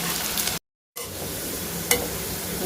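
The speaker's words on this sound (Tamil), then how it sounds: "இப்போ வெங்காயத்தை போட்டுக்கலாங்க போட்டு நல்லா நல்லா வறுத்து எடுக்கணுங்க" Onions fry in a pan of hot oil for chicken biryani, a steady loud sizzle broken by a brief dropout and a single stirring scrape, with no voices.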